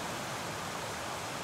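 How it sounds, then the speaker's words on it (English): Water pours down a Connecticut waterfall as a steady, faint broadband rush with no other sounds over it. "One of Connecticut's great waterfalls."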